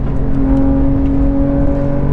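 A 2022 Porsche 911 GT3 engine pulls hard while accelerating on a road, a loud, close, steady high-pitched mechanical drone with a constant whirring tone.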